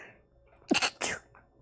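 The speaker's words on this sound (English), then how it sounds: "I'm going to sneeze so you can cut this out" A single close sneeze, with a quick sharp intake followed by two bursts of breathy expulsion, in an otherwise quiet room.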